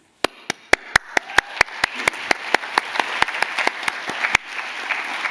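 An audience at a climate innovation leadership event claps, sharp even beats ringing out at a quick steady pace over a soft wash of applause, then ending abruptly after about four seconds.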